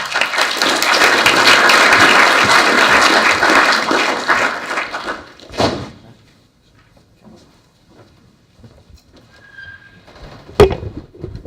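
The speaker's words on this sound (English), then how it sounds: "So can we get a round of applause for Kieren?" A panel audience applauds with dense, loud clapping for about five seconds, fading out, followed by near silence with a couple of faint knocks and one sharp tap.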